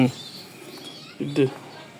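Two short, soft coos from racing pigeons a moment apart, close by, over a quiet background murmur.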